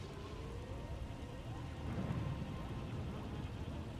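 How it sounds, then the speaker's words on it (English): Steady rain with low rumbling thunder during a storm in the video game Star Wars: The Old Republic, a continuous dense wash with a swell of rumble midway, heard alone. "a fierce storm coming our way"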